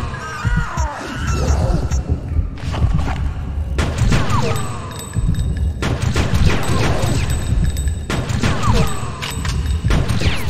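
Rapid bursts of gunfire and booming impacts from the Fear Effect video game, loud and nearly continuous in a dense action sequence with heavy thuds and crashes.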